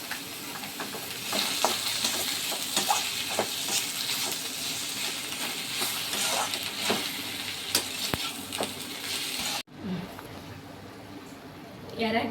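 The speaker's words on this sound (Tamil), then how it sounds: "தக்காளியை நல்லா வதங்கட்டும். அது கூட இஞ்சி பூண்டு பேஸ்ட்டும் போட்டுக்கிறேன்." Tomatoes and ginger garlic paste sauté in a pan, hissing continuously while a utensil scrapes and stirs in irregular strokes; the sizzle drops sharply near the end, then briefly resumes.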